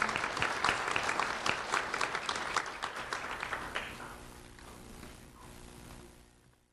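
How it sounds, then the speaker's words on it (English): An audience at a community awards ceremony bursts into sustained applause that stays full for several seconds, then thins and fades away toward the end, with no talking over it. "Let's have a round of applause for Garrett Lewis."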